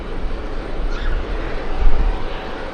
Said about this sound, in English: We have JetBlue about to take off.